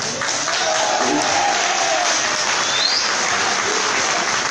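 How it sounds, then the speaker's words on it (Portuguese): Steady, dense applause from an audience filling a city council chamber during a ceremony marking 27 years of Brazil's child and adolescent statute, loud and unbroken throughout with no pauses. "A gente não devia nem aplaudir isso, porque é uma coisa muito lamentável."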